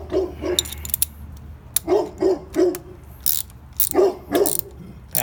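A ratchet tightens bolts on the lower front end of a Honda CB300R, with several bursts of quick clicking strokes in irregular groups, close and alone.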